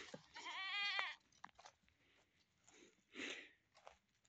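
Kiko goats bleat nearby, one long wavering bleat and then a second shorter one, with small chewing and rustling sounds in between and no talking.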